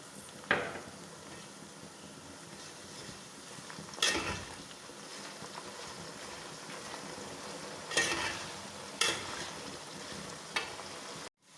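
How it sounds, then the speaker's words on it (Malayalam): Plantain chips frying in hot oil while being stirred, producing a soft continuous sizzle with periodic louder scraping strokes from the stirring utensil, no voices. "ഇനി തുടരെ ഇളക്കി വറുത്തെടുക്കാം."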